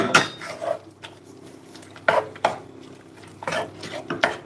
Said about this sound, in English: I shall do a little mixy stir up of the onions